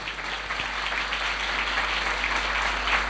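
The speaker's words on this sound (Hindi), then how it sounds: "ज़ोरदार तालियां भले खुदा के लिए" Sustained audience applause fills a church during a Christian sermon on thankfulness, a dense, steady wash of many hands clapping at moderate volume with no break and no talking over it.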